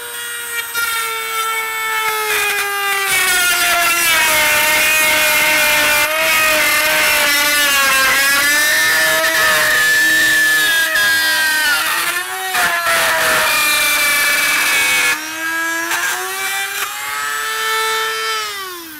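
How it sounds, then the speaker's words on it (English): A Dremel rotary tool fitted with a scroll saw bit whines loudly at its highest speed while cutting random shapes, its pitch dipping and rising under load in one continuous close run. "Now I'm going to set my speed setting at the highest speed, number 5, and we're going to just continue this random cutting, mimicking the action of a scroll saw."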